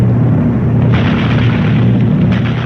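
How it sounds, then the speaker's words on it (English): A ship's bridge gun fires in a World War II Atlantic naval radio drama, a dense, continuous roar of booming gunfire with a heavy low-end thump, loud and close, with no voices over it. "But the bridge gun's opened up"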